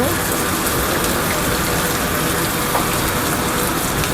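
Canned pineapple tipped in together with its juice for a Thai food-truck stir-fry, a steady gushing pour of liquid that runs continuously at close range with no voices.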